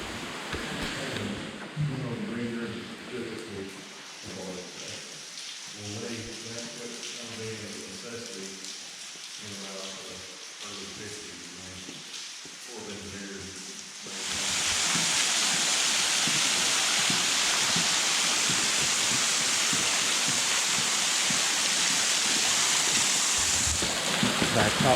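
Water pouring down like heavy rain inside Mammoth Cave, a steady hiss that suddenly swells much louder and closer partway through, with people talking over the quieter first half.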